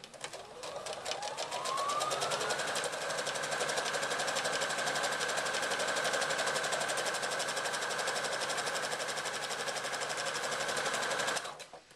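A sewing machine runs steadily, stitching the seam around the two sections of a reversible handbag, with one long continuous whirring run that starts up quickly and stops near the end, loud and close with no talk.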